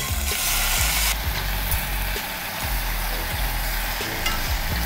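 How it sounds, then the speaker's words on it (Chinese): Beef short ribs sear in hot oil in a pan on a Japanese triple-layer stainless yukihira saucepan, a steady loud sizzle with crackling pops throughout, no voices. "所以我们先把牛肉煎香，它油热的真的好快哦"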